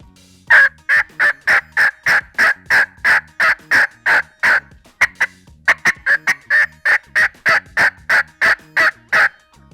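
Rapid, evenly paced turkey yelps mixed with cutting, loud and close, run in two long series with a short break between; a call imitating an excited hen.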